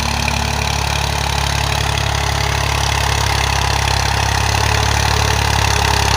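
A tractor engine running steadily in a farm field in Punjab, a constant low rumbling drone that stays loud and even throughout, with no talking over it.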